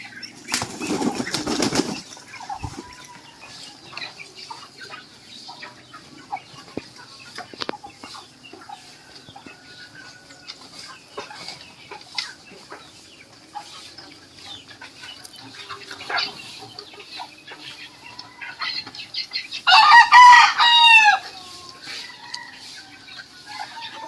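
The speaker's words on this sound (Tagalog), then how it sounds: "Ating mga alagang pato, gansa, manok, halo-halo na." Wings flap loudly near the start, chickens cluck softly throughout among ducks and geese, and a rooster crows near the end.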